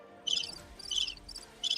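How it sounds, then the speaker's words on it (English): Crickets chirping as a sound effect, four bright, evenly spaced bursts of trilling over a quiet, faint background. "That's crickets."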